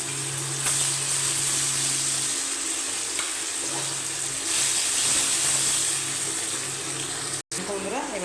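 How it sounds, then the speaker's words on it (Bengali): Paneer pieces frying in hot oil in a pan, a steady loud sizzle running throughout with a brief cut near the end, voices faintly underneath. "এখানে পনিরগুলো ভেজে নেবো।"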